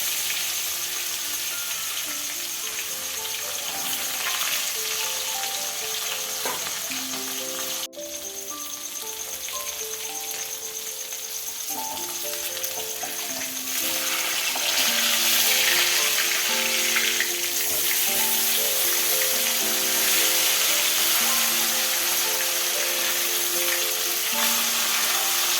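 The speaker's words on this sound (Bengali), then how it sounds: "তো মাছগুলো এখন ভাজা হতে" Fish pieces fry in hot oil with a continuous crackling sizzle that grows louder partway through, while soft background music plays along with it and no one speaks.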